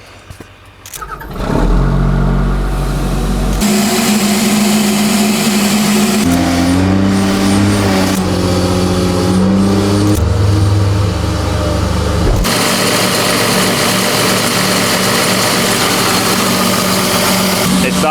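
Tigercat skidder diesel engine in the Pemberton woods, leaking while run for testing; it starts after a brief quiet, then runs loud and close with changing throttle and a shifting drone before settling into a steady rumble.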